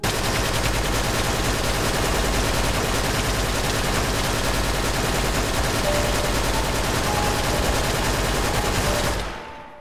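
Sustained automatic gunfire in Minecraft roars loud and dense for nearly ten seconds without pause, rapid shots blurring into a continuous rattle before cutting off abruptly.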